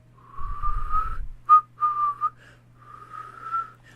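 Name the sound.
character whistling in video game The Darkside Detective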